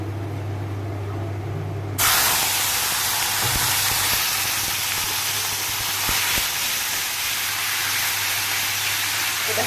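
Spice paste for a vegetarian potato dum hits a hot pan with asafoetida, bursting into a loud, steady hiss of sizzling that continues unbroken, with a low hum in the background.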